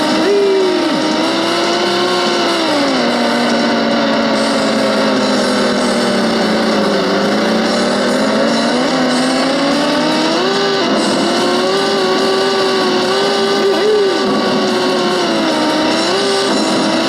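Off-road buggy engine in the Sega Dreamcast racing game Buggy Heat, a loud continuous drone rising and falling in pitch as it revs and shifts gears across dirt, with steady background game music.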